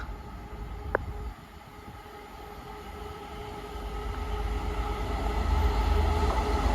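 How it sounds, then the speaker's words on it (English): A freight train running from Trafford Park to London Gateway passes on the Walsall line, a steady low rumble of wagons that slowly builds in loudness, with one brief sharp squeal early on. "Here comes a passing freight train"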